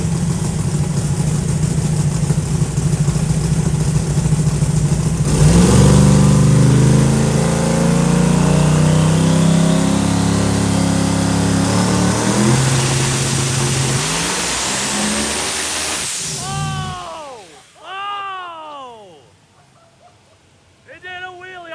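A high-horsepower car, rated around 5,000 horsepower, strapped to a hub dyno, roars up to a loud, sustained, rising rev for about ten seconds, then cuts off into quieter chirping noises and near silence.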